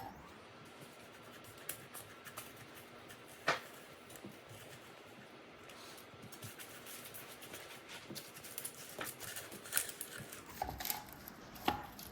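A kitchen knife cuts an onion into slices on a board, giving irregular close-up chopping taps and slicing scrapes with a few sharper knocks, over a quiet room background and no talking.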